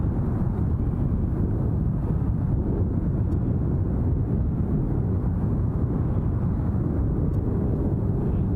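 A Ryanair airliner bound for Dublin departs Glasgow Airport as a steady, broad low roar of jet engine noise heard from a distance, mixed with wind buffeting the microphone, continuous throughout without talk.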